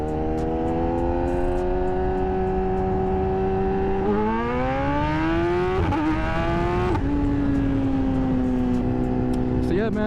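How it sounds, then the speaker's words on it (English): Motorcycle strapped down and accelerating hard in first gear through a 40 mph pull, engine pitch climbing steadily with gear-held revs, loud and close throughout the run. "All right, I'm gonna do about a 40 miles per hour pull right here."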